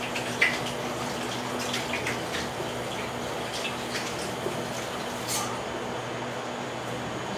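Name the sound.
washing hands under running tap water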